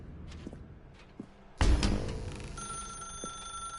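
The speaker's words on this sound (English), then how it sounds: "Now pick up the phone." A telephone rings in the video game The Stanley Parable, starting abruptly after a few soft footsteps, a loud sustained bright tone that rings on steadily after the first burst.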